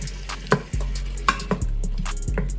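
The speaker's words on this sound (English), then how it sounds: "Now I'm going to add my apple juice." Half a cup of apple juice hits a hot Instant Pot during a sauerkraut and kielbasa dish and sizzles steadily, broken by a few sharp clinks and clatters, with no talking.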